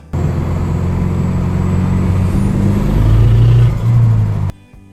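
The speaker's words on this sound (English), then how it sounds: "The motor's running okay now." A worn Opel Rekord engine with a recently replaced head gasket idles steadily nearby, a loud continuous low rumble that swells slightly before cutting off abruptly near the end.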